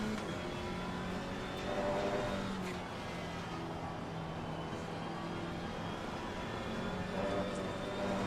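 GT3 and GT4 race car engines in the racing game Assetto Corsa Competizione at Barcelona: steady, moderately loud engine drone with sustained tonal hum and slight pitch shifts, cars running together without clear passes.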